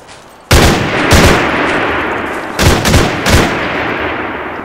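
Heavy gunfire in Arma 3 in an Afghan village setting, a sharp loud first shot followed by several booming reports at irregular intervals, each with a long rumbling tail.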